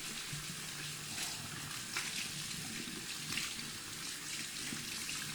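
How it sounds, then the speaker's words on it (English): Tap water runs steadily into a bathroom sink during hand washing, a continuous broadband wash with no voices. "I'm gonna wash my hands."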